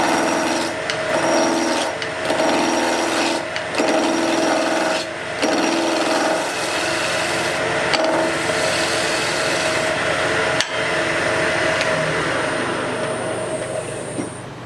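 A lathe tool cuts into a wooden spindle blank, making a loud, continuous rough scraping and rasping with a rhythmic, regularly repeating pulse from the spinning out-of-round wood.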